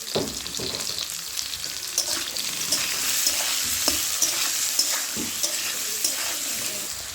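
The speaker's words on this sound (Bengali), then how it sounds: "আলুটা আমি হালকা করে ভেজে নিয়েছি।" Potatoes frying in oil with salt and turmeric, for a fish-oil (macher tel) dish: a steady broadband sizzle with occasional stirring clicks, moderately loud and continuous throughout, with no voices.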